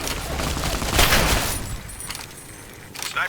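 Rapid bursts of gunfire aimed at Praetorians during the Battle for Hoover Dam in Fallout: Tale of Two Wastelands, sharp volleys clustered early and then scattered shots trailing off.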